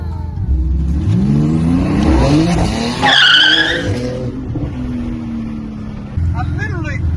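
A street car launches hard, its engine rising in pitch through a rev before a short, loud tire skid chirps. Voices talk and exclaim over the engine noise.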